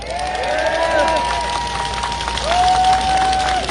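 A crowd at an outdoor political rally at a Jeju city rotary applauds and cheers in a dense, continuous roar, with whistling tones and voices over it.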